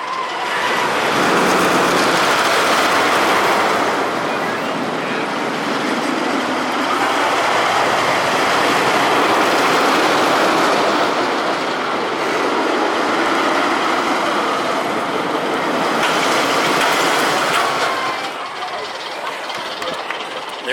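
The Shivering Timbers wooden roller coaster train at Michigan's Adventure rumbles and clatters steadily along its track, a broad continuous roar with rattling undertones, swelling slightly near the end.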